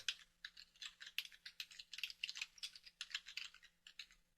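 Rapid, light clicking of keys on a computer keyboard as a title is typed in a quiet room, a steady close patter of keystrokes with no voices.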